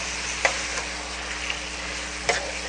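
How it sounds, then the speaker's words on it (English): Marinated deer meat sizzles steadily in a hot pan, a constant close hiss with a few light clicks of stirring. "Can you hear the sizzle?"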